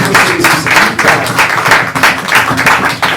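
A church congregation claps and applauds during a sermon, a dense, steady wash of hand claps with rhythmic surges throughout, loud and close.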